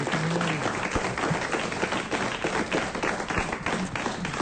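Audience applause at a live French radio show, dense and sustained clapping from a studio crowd, loud and close throughout with scattered sharper claps standing out.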